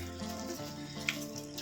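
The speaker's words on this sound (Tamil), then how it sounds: "நல்லா இதெல்லாம் திருப்பி ஒரு தடவை நல்லா வதக்கி விடுங்க." Tomato rice masala sautés in a pot for biryani-style one-pot tomato rice, giving a soft continuous sizzle and crackle with faint stirring, with no talk.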